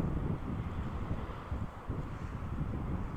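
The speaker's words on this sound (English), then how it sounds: "wind sure does come sweeping down the plain here in Oklahoma" Wind blows steadily outdoors in Oklahoma beside a 1987 squarebody truck, a continuous low rumbling gust against the microphone, fairly loud and alone without any talk.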